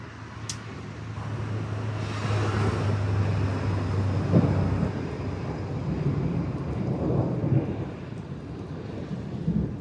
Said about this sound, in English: That's gonna be a loud boom of thunder there.